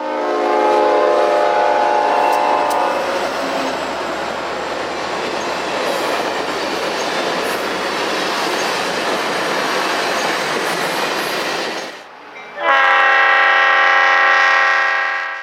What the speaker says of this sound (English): At the other end of the curve is tunnel number 1, where we see train number 1 exiting heading west and train number 2 entering heading east